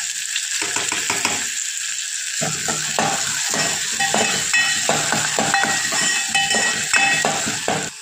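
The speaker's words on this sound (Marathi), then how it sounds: "अद्रक, लसूण आणि बारीक चिरलेला कांदा. कांदा छान आपल्याला गुलाबी रंग येईपर्यंत परतून घ्यायचा आहे." Ginger, garlic and finely chopped onion frying in a pan, loud and close, with a sizzle broken by repeated clatter and scraping of stirring that comes in uneven bursts, and no one speaking.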